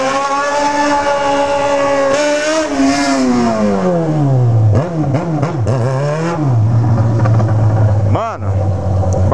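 A Yamaha XJ6 motorcycle with a very tall exhaust pipe roars loudly, revving up and down repeatedly, close and aggressive, with brief voices in between.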